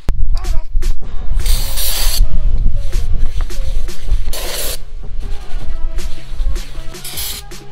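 Brake cleaner sprays in several loud, hissing bursts onto a greasy brake rotor during a brake pad and rotor change on a Lexus GX470, with workshop clatter between the blasts.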